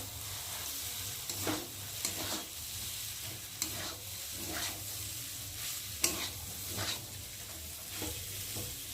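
Boiled chow mein noodles sizzle steadily in a hot frying pan while a spatula stirs them, giving soft scraping strokes about once a second over the constant hiss.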